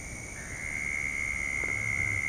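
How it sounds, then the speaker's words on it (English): A single frog calls by a creek after rain, a sustained piping tone heard fairly clearly over soft background water and ambient noise, with no talking. "One frog makes that much racket."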